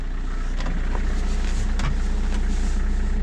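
A car engine runs with newly fitted timing and accessory belts, giving a steady, loud mechanical drone with a rapid pulsing idle rhythm and faint intermittent high squeaks over it.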